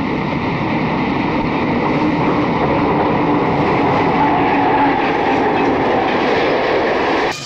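An Erie Lackawanna MU electric commuter train rolls past in light snow, giving a loud, steady roar of wheels and motors with faint clickety-clack and no voices.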